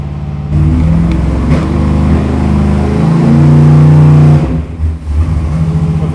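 A 1955 Chevy fitted with an 800-horsepower NASCAR racing engine revs hard and loud up close, holding a sustained roaring drone for several seconds before the throttle drops and it settles to a rougher, uneven idle.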